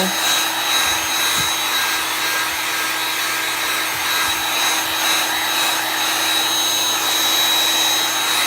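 Heat tool blowing hot air onto a corkboard for wood burning, a steady, fairly loud broadband whoosh with a constant motor hum running unbroken throughout.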